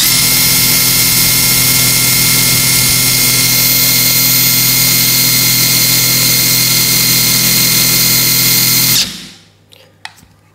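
A Blackfoot 21V brushless impact wrench rated at 600 Nm runs free with no load, giving a loud, steady, high-pitched motor whine for about nine seconds before it is released and quickly winds down, followed by a couple of faint clicks.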